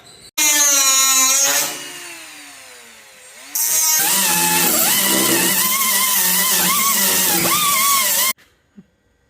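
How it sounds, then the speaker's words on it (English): Power grinder working down a welded firewall, a loud continuous whine that spools down, pauses, then roars back steadily with shifting pitch before cutting off. "Then grind her down, and that's all done."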